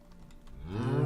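Cows in a building video game give a single drawn-out moo that swells louder toward the end, preceded by faint soft clicks.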